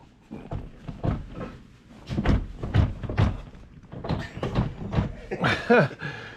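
A series of dull thunks and creaks as a heavy, worn truck door is worked open and shut, close by, with a few irregular knocks.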